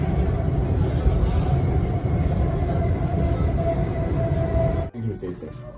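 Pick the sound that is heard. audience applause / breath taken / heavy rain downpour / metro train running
metro train running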